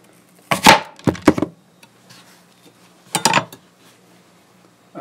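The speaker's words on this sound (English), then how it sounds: "So we're going to take a slice right now." A knife slicing through a Cosmic Crisp apple, a few crisp crunching cuts in short bursts separated by quiet pauses, close and clear with no talking.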